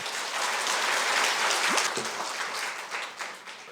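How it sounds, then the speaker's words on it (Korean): Audience applause fills a public lecture hall during a citizens' academy talk on constitutional power, a dense, steady wash of many hands clapping at moderate loudness that thins slightly toward the end, with no speech over it. "여러분 박수로 청해 보겠습니다."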